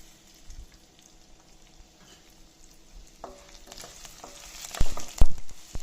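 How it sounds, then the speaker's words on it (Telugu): Urad dal dropped into hot oil, quiet at first and then breaking into a louder crackling sizzle with sharp pops toward the end, close by and without voices. "యాడ్ చేసుకొని వేగనివ్వాలి."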